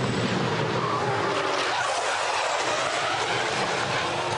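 V8 Supercar at Bathurst slamming into a concrete wall after a 260 km/h approach, heard as a loud, continuous roar of engine and tyre scrub with broadband crash noise throughout.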